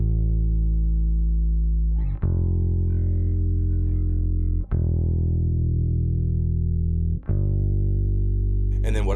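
Bass guitar played through effects with distortion and chorus, sustaining chords on E and then G for a song bridge. Long ringing notes are struck about every two to three seconds, loud and close, with no talk.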